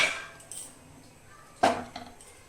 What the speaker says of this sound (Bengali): আমি পকোড়াটা বানানোর জন্য কড়াই বসিয়ে দিব।